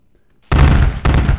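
Explosion and gunfire from the arcade plane shooter 1945: a sudden loud burst after brief quiet, a short dip, then a second dense blast continuing to the end.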